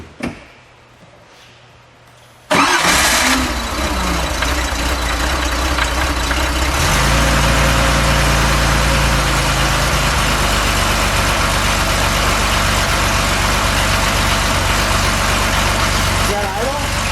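A 1973 Porsche 911 Carrera RS 2.7 fires up after a quiet start, then settles into a loud, steady, close idle with a throbbing low rumble that persists to the end, with brief voices nearby.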